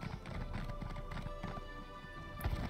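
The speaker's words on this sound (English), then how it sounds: "Maybe being on a horse is not a good idea going down these stairs." Horse hooves clatter down stone stairs in the video game Elder Scrolls Online, a rapid run of clip-clop steps under game ambience, ending with a heavier thud of hooves.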